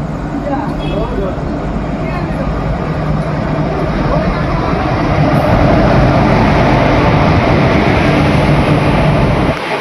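An Azimganj local passenger train rumbles along loudly and close by, its steady roar growing slightly heavier, with voices underneath.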